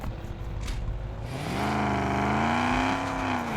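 A car engine revs up and holds a loud, rising drone with steady harmonic tones, starting after a short rumble and staying close and prominent with no talk.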